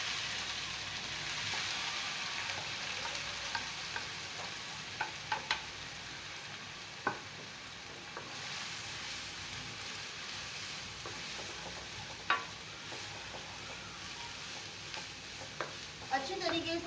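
Finely chopped onions frying on high flame in a pan, a steady soft sizzle with occasional stirring clicks and scrapes, close and fairly quiet.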